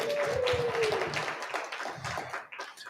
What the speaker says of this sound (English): How about another round of applause for Mr. Eckerfe here?